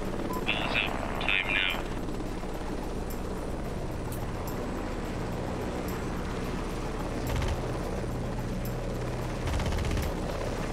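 Helicopter rotor and engine drone steadily in the Heliborne combat game, a continuous low mechanical hum with faint brief bursts over it and no voices.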